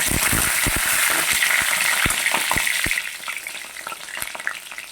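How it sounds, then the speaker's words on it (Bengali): Cauliflower florets fry in hot oil in a wok, a steady dense sizzle with sharp crackles and pops from stirring, loud and close, easing slightly in the last couple of seconds. "ফুলকপিগুলা ভাজা হয়ে গেছে, এবার উঠিয়ে নেব।"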